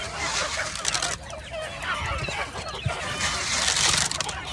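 Ducks feeding in a rainy village yard, honking and quacking repeatedly at close range with shuffling and pecking sounds, and a voice occasionally in the background.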